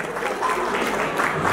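A crowd claps briefly to welcome a guest onto a stage, a dense burst of applause with a voice speaking over it.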